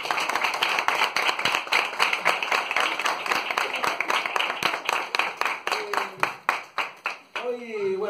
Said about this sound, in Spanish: voy a pedir un aplauso para la gente 2008